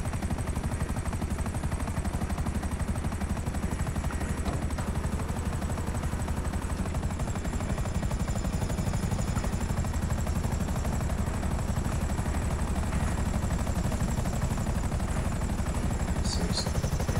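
Helicopter in a GTA 5 heist setup mission, a constant loud rotor and engine drone filling the whole stretch with steady dense noise and no talk over it.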